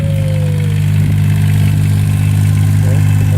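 A Kubota K008 mini excavator engine runs at a steady loud drone while the turret spins in a circle, with a constant low hum close by and faint hydraulic whine over it.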